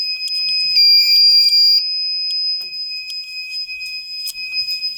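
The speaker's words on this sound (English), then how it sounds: "let me blow the smoke detector out" A smoke detector alarm shrills loudly and nearby, a piercing high electronic tone held steady for a few seconds with faint clicks and background sounds around it.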